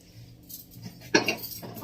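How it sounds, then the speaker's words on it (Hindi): A pressure cooker is picked up in a home kitchen, giving one sharp metallic clank followed by a brief rattle of cookware, close and moderately loud after a quiet stretch. "मैं जल्दी से कर लेती हूँ और कुकर को उठा लेती हूँ"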